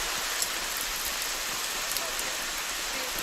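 Heavy rain pours steadily at an outdoor para trap shooting range, a constant close hiss of drops hitting surfaces with faint scattered taps, and no voices over it.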